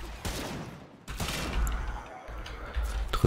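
Rapid gunfire from the Warframe video game, with Excalibur Prime in play, rattles in dense, loud bursts with a short pause midway, and a voice speaks faintly underneath.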